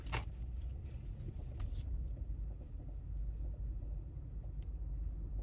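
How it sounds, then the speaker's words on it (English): Steady low road rumble and tyre noise inside a moving car, continuous and fairly loud throughout, with a couple of faint brief clicks or rattles over the drone and no talking. "I thought I heard like a noise with my car, but I think it was just the road"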